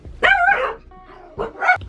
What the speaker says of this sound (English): Just clean up while she barks.